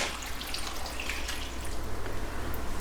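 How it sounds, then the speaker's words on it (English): Filtered water poured into a pot of chopped potatoes, a continuous splashing, trickling stream that grows slightly fuller toward the end, close and alone without talk. "add in 1 quart of clean filtered water"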